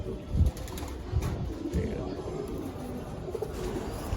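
Soft, low cooing of Giribaz pigeons, including a young female, repeats in short bursts over a steady background murmur at a pigeon sale, with faint voices nearby.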